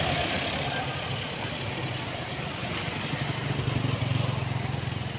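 A Mahindra tractor runs a newly built basket-type cutter thresher from Jagdamba Agro Industries, a steady mid-pitched engine drone with a throbbing pulse that swells louder toward the end.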